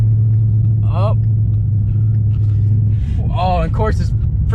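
A struggling car engine runs at a steady low rumble while the driver feathers the gas to keep it alive. Someone talks over the engine in short, anxious bursts.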